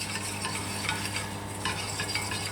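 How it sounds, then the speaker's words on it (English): Whisk stirring flour into frying onions in a pan, soft scraping strokes over a steady sizzle with a constant background hum, close and moderate in level. "I'm going in with my whisk now. Just blend the flour around."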